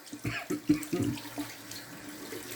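Running tap water splashes over hands being rinsed at a sink after a straight-razor shave with green shave soap, close and brief with a few uneven splashes that fade toward the end.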